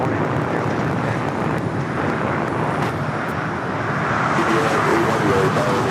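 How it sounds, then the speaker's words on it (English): A Gulfstream G400 business jet taking off at LAX, a steady broadband jet roar heard from a distance with some wind buffeting, growing slightly louder toward the end. "Wing Aviation Flight 66 taking off to Washington Dulles on the Gulfstream"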